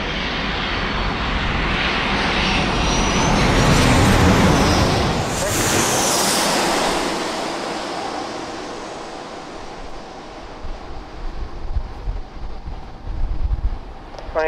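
A Southwest jet airliner roars loudly as it takes off from San Diego, its broad engine rumble swelling to a peak and then slowly fading into the distance.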